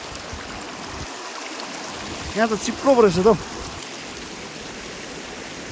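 A mountain stream in Sikkim rushes steadily as a broad, even wash of water noise, with a man's short spoken remark rising over it midway.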